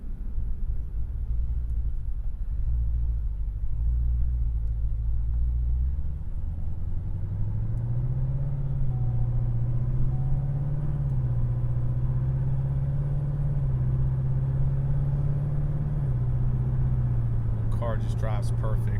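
A 2016 Corvette Z06 with a built motor and twin turbos, making nearly 1000 rear-wheel horsepower, rumbles steadily while driving normally, a deep continuous engine drone that rises in pitch as it accelerates.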